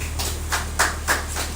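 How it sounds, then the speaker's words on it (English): A group of people at a football coaches' seminar clapping for a participant, a short burst of scattered hand claps in an echoing space over a steady low hum. "can we clap for him?"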